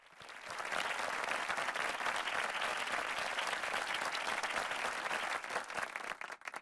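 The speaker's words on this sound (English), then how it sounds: "How about another round of applause for those amazing undergraduates?" Audience at an awards ceremony applauding undergraduates, a broad sustained roar of clapping that swells quickly, holds evenly for several seconds, then tapers off at the close.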